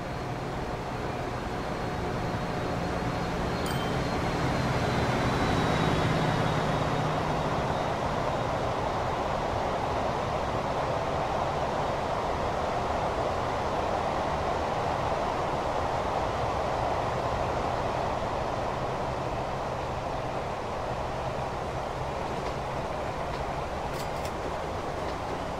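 A V320 diesel locomotive hauling Eaos freight wagons loaded with stones in the Transport Fever simulation game rumbles steadily, with a continuous broadband rail and engine drone that swells slightly early on and persists throughout.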